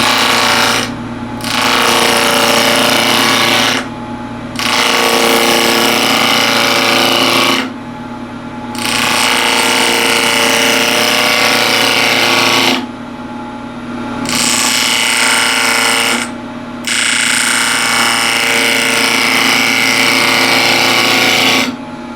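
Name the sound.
wood lathe turning a yew box at 1700 RPM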